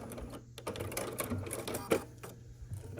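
A sewing machine stitches a quilt block seam at a quarter-inch allowance, giving a quiet, close whirring with fast mechanical ticking across the whole stretch.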